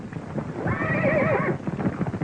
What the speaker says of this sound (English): As soon as Ward gets through checking these horses